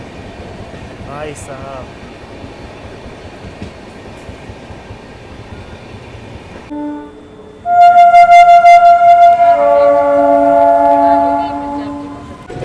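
The Shivganga Superfast Express rumbles steadily past, then sounds a loud, sustained multi-tone horn that blares for several seconds up close, with a voice briefly heard.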